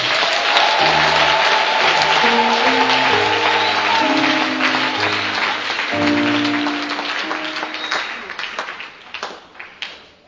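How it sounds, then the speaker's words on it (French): An audience at an evangelism campaign breaks into sustained applause for the Lord, dense clapping mixed with a few voices and held musical tones, thinning and fading toward the end. "Est-ce que tu peux acclamer pour le Seigneur?"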